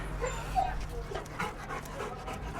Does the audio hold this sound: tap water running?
no